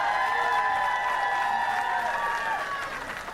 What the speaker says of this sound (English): how about one more round of applause for our two finalists?